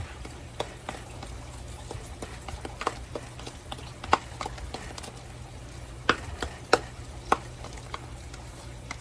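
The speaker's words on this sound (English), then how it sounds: "So we're just going to stir this around," Buttermilk mixture being stirred and whisked in a bowl, light irregular clicks and taps of the utensil against the sides, faint and close over a low steady background hum.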